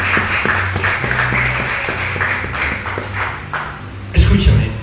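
A church congregation claps loudly and steadily, with continuous overlapping applause close by that swells near the end.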